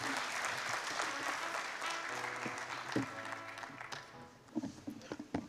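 An audience at an NSSF Uganda members' meeting claps after a presentation. The applause starts full and dense, then thins into a few scattered, closer claps.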